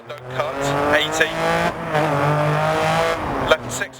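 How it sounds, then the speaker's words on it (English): Ferrari Formula 1-engined Lancia Stratos rally car in the Dirt Rally video game, its engine droning steadily with rising and falling harmonics and brief revving, heard under continuous commentary. "The Ferrari Formula 1 engine just roaring at you the whole way through also helps."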